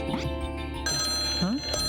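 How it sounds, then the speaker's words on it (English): An old 1800s-style telephone rings in the video game Trauma Team, a bright metallic bell trill heard close over game music, with a voice speaking over it. "You've got a phone from the 1800s in here."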